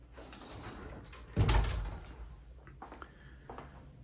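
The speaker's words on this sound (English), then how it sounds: "you have just your standard closet here with your bifold doors" Bifold closet doors in a standard bedroom closet are opened, giving one solid wooden clack and rattle followed by softer scraping and small knocks, fairly close in a quiet room.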